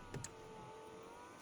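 The electric power window motor of a Fiat Panda, freshly repaired with a new regulator, whirs faintly and evenly after a couple of brief clicks, heard close inside the quiet car.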